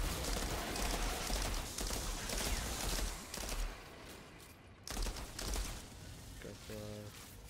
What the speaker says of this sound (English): check the shotty out. This thing's a burst.